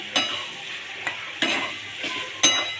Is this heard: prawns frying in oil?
yes